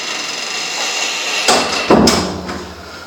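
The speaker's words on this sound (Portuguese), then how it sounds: "Vou fechar a porta." A door shutting indoors: two heavy wooden thuds about half a second apart, loud and close, over a steady background hum.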